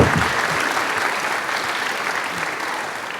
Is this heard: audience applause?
yes